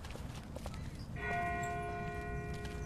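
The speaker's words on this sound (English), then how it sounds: "That's not the same bell as before. This one's further off." A distant bell rings out in The Walking Dead video game, a single sustained metallic toll with long ringing overtones that hangs over a low ambient rumble and light background noise.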